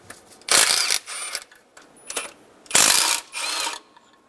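Ratchet wrench loosening a 12 mm nut on the alternator of a 2000-2006 Toyota Tundra 4.7L V8, several short bursts of rapid clicking close up, with brief pauses between strokes.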